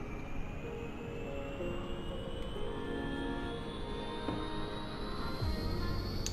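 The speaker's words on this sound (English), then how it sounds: "you can hear the tiny little jet engine in there, spooling up" Simulated C-161 Transall auxiliary power unit, a small jet engine, spooling up in a flight simulator game: a steady whooshing roar with a thin whine climbing slowly and continuously in pitch throughout, no voices.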